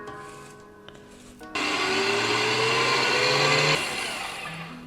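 Electric mixer whisking cake batter for an apple cake, starting softly then switching to a loud steady whir with a rising pitch, close and alone.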